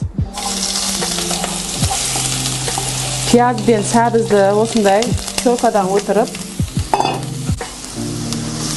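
Grated onion and carrot fry in a pan for chicken soup, a steady sizzle running throughout while someone talks over it.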